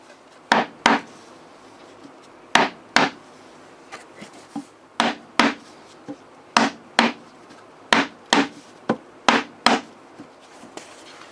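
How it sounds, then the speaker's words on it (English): Sharp hammer blows on a wooden beehive frame, often in quick pairs, with short pauses between groups, close and fairly loud. "The wax buildup around here obviously will chip away as you hammer it in."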